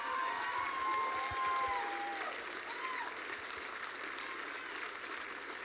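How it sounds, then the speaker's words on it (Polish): Applause and some cheering from an audience for the performers of a school musical in a hall, a steady wash of clapping at moderate distance, with faint tonal sounds in the first seconds. "Brawa dla tych artystów."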